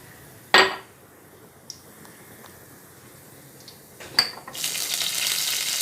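Cumin and mustard seeds go into hot oil in a pan for tempering. A few sharp utensil clinks are followed by a rising, steady sizzle near the end, fairly quiet overall.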